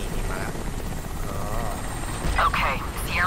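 A helicopter in the video game Crysis Warhead thrums steadily throughout, a constant rotor drone with brief higher whooshing swells near the end, sitting under other game sounds.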